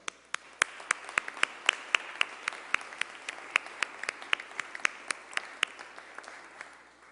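Scattered hand claps from a small group at a Rhode Island press event on gun safety bills, individual sharp claps in a loose, uneven rhythm, fairly quiet and without talk.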